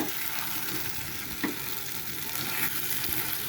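Dried fish (shutki) frying in hot oil on a stove, a dense continuous sizzle and crackle, close and steady with a few brief pops, no talking.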